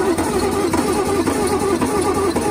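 A 1962 Bedford truck engine runs steadily for a moment, a loud, close, rough idle with an even low throb and no talk over it.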